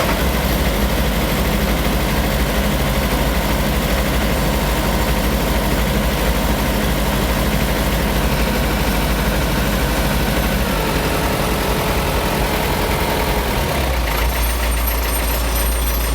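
Ford 7710 tractor diesel engine idling after a throttle cable change, a loud, steady low rumble close by with a slight miss, running continuously throughout.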